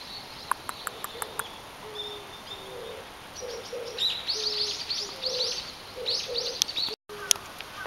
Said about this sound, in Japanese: 変わった形の鳥が来てる。